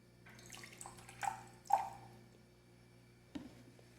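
A small amount of water poured into a glass cup, a few faint trickling and splashing bursts with drips, quiet and intermittent, followed by a soft knock.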